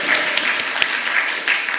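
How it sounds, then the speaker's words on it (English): An audience at a cancer research and care event claps in a dense, steady burst, with a few sharper individual claps standing out and a voice faintly audible beneath. "yeah, clap for that, yes."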